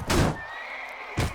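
A horse in the Mount & Blade Warband game lets out a clear, loud whinny during a mounted battle. The neigh rises sharply and fades inside about a second, set between dull thuds.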